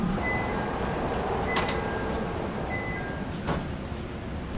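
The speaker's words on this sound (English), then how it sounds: "Doors closing." Chicago L Blue Line train doors sliding shut, a couple of brief thuds with a faint chime beeping above the steady rumble of the idling train, no talk.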